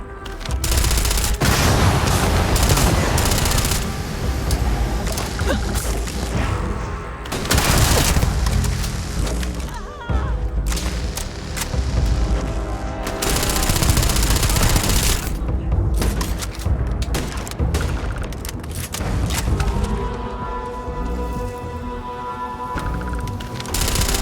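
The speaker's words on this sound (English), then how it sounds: "Just shoot everything!" Gunfire from the video game Starfield: sustained, loud volleys of rapid shots and booming blasts that roll on almost without pause, with occasional tonal game sounds mixed in near the end.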